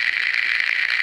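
Crackling, hissy radio static from Max Payne 2 as the transmission breaks up, a steady rough burst lasting about a second with no voice coming through.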